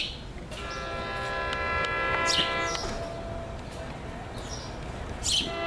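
A commuter train locomotive horn, BL unit 823 leading, sounds a sustained chord over the low rumble of a passing three-car train, with a brief bird chirp and faint voices nearby.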